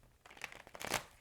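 A deck of tarot cards shuffled in one brief flurry, with soft papery riffles building to a louder slap near the end, close and quick, without any talking.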